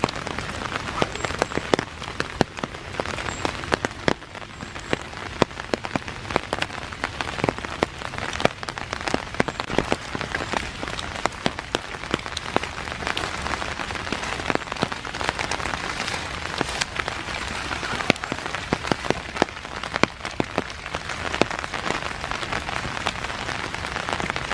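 Steady rain falls in Iroquois Park on a dark, foggy December morning, a dense even patter with close crisp droplet ticks throughout and no talk.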